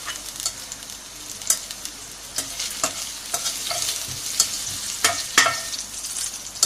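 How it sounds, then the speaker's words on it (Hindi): Chopped garlic frying and being stirred in a pan for chicken lasagna, a steady close sizzle with repeated sharp scraping clicks of the spoon against the pan, no voices. "अब हमने लहसुन डाला है।"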